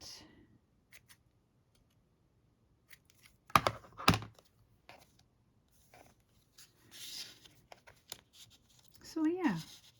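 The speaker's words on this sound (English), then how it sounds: "And just snip the length of it." Scissors snip along a length of craft material for a Christmas scrapbook page, a couple of crisp cuts in close succession amid quiet rustling, followed by a brief stretch of soft talking.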